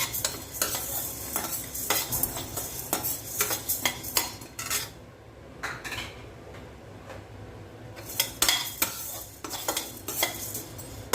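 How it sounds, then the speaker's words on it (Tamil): Urad dal and black pepper dry-roasting in a pan for idli podi, stirred with a metal spoon that makes rapid, close scraping and clinking over a faint, dry rustle, with a brief lull midway. "அதுவும் நல்லா வறுத்து எடுத்துக்கணும் இப்போது இதோட மிளகும் சேர்த்துக்கலாம்"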